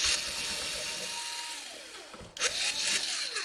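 A small screwdriver grinds against stubborn screws on an Asus R500V laptop being taken apart, giving a close, continuous scraping whir that stops briefly and then starts again.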